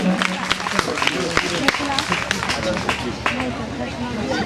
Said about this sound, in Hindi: जोरदार तालियों से स्वागत करें इनका।